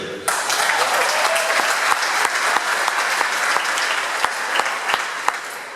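An audience in a lecture hall with poor acoustics breaks into applause and cheering, many hands clapping at once with sharp individual claps standing out, fairly loud and sustained for several seconds.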